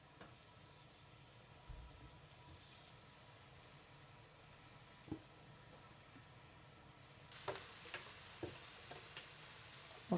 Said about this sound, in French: mettre les aubergines dans l'huile pour les faire frire